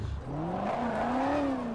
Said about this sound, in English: Look, my e-brake is on right now, and I'm just revving it.